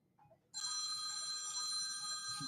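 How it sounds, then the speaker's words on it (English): Telephones ringing in an office, a bright electronic ring that cuts in suddenly and then holds steady and continuous, fairly loud and close. "Oh, the phones are ringing."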